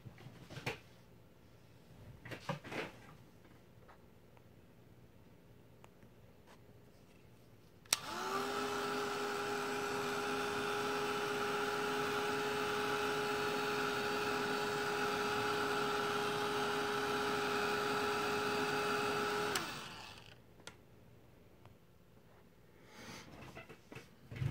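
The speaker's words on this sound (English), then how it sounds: "now I'm going to use my Ranger heat tool just to dry it enough" A Ranger heat tool blows steadily for about eleven seconds, drying primer on a mixed media tin. It is a loud, even whirring hum that starts and stops abruptly, with quiet room sounds before and after.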